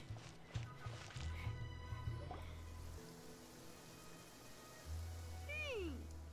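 Rain falling in the Genshin Impact game, a soft steady patter under faint game music and effects, with quick clip-clop-like drips and a swooping chime near the end.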